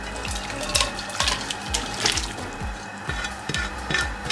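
Cooked mutton being tipped from a pot into a pan, with wet clattering, scraping and sloshing in quick repeated bursts, close and moderately loud, with no voices.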